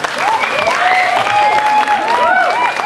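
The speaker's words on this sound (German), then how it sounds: "Applaus für Philipp." An audience at a singing competition claps for a young contestant in loud, sustained applause, with a few raised voices and whoops over the clapping.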